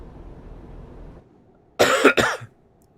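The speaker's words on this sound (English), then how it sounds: "See, that cough" Two sharp, dry coughs close together, loud and near, after a stretch of low background rumble.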